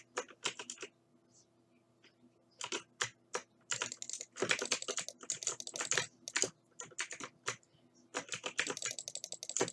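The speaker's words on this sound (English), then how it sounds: "But my keyboard is so loud." A loud computer keyboard clatters in quick bursts of typing during a Minecraft Skywars game, with close, sharp key clicks in clusters separated by short pauses, and no voice over them.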